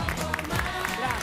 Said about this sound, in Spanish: Aplaudimos a Nico Riera.